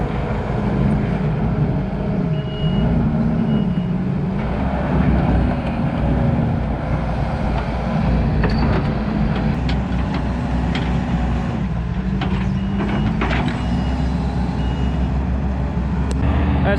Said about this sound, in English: That skid loader is similar to ours, except it's got tracks on it.